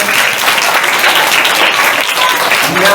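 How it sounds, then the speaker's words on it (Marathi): Third-grade students at a school resolution-day event in Ratnagiri clap loudly together, a dense, steady roar of applause filling the room without a break. "आणि एकदा आपण जोरदार टाळ्या वाजवूया या सर्व कार्यक्रमाबद्दल"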